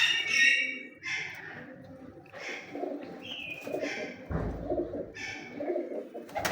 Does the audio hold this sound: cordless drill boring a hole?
no